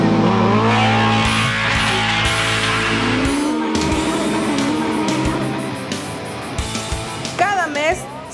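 Race cars in a quarter-mile drag race in Managua roar loudly with revving engines and a passing whoosh, then fade as a crowd and a voice come through toward the end.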